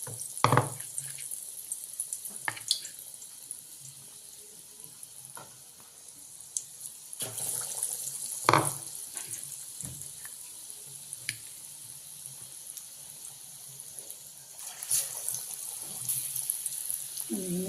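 Potato vadas coated in gram flour batter fry in hot oil with a steady broad hiss and scattered pops and crackles, continuous throughout, with no talking.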